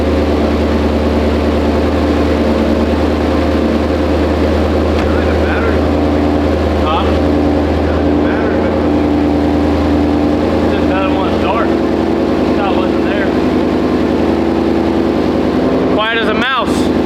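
A twin-turbo Ford Mustang engine idles steadily with a quiet exhaust fitted with Corsa Extreme mufflers, a low continuous drone running throughout, with speech heard over it near the end.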